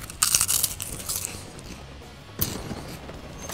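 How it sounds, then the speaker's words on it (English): A chip is bitten and chewed close up, giving a burst of sharp, brittle crunches, a quieter stretch, then another crisp crunch near the end. "If you want to hear the crunch, I'm about to crunch here"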